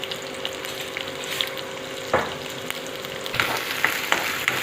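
Onions and curry leaves frying in sunflower oil for a Mangalorean fish curry, a soft steady sizzle broken by a few sharp clinks and scrapes of stirring toward the end.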